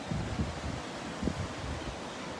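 Gusty wind buffets the microphone outdoors in Tours, Loire Valley, France, a low rumbling roar with a couple of stronger bursts, steady and close for the whole stretch.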